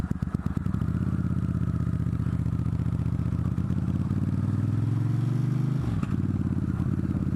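A Suzuki GSX-R motorcycle idles and rolls close by, its engine a steady rapid throbbing with a faint rising whine, loud and continuous with a brief dip near the end and no talk.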